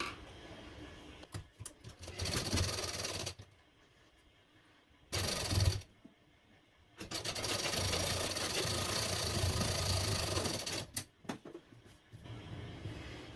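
Sewing machine stitching fabric for a Bombay cut blouse, running in loud steady bursts of rapid mechanical whirring broken by short pauses, close up with no talk.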